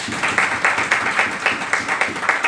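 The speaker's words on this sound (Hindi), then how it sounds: "उनके लिए जोरदार तालियां होनी चाहिए" An audience at a Netsurf programme event in Raipur claps for a leader, a brisk, fairly loud burst of applause with distinct pulsing hand claps throughout.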